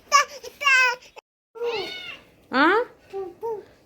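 A cat meows several times in short, high, wavering calls, close by, with brief pauses between them and a soft voice briefly mixed in.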